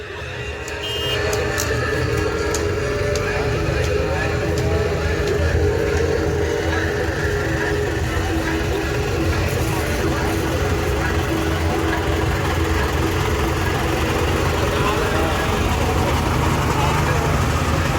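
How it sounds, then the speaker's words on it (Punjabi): A tractor engine runs steadily at a Sikh Nagar Kirtan procession, a continuous low droning hum close by with a faint tonal whine, while people talk over it throughout. "ਆ ਘੈਂਟ ਸਿੱਧਾ ਟਰੈਕਟਰ ਹੈ ਨਾ"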